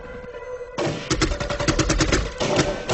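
Archival gunfire from the Waco siege shootout, a dense burst of rapid shots and volleys cracking out after a quieter opening, loud and sustained with sharp repeated impacts.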